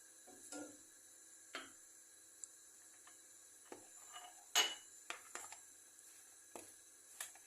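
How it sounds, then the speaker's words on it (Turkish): A utensil stirs a spice and oil mixture with sumac in a pan on the stove, making sparse, light clinks and scrapes against the metal, faint and close, with no talk. "İyice karıştırıyorum harmanı."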